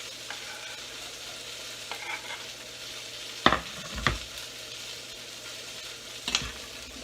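Onions sautéing in grapeseed oil sizzle steadily, broken by three or four distinct scrapes and knocks of a utensil against the pan, near and clear.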